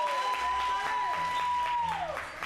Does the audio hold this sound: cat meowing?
no